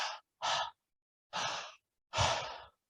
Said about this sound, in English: so this is breathing.